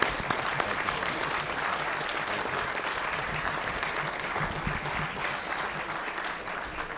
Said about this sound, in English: How about a round of applause for our speaker today?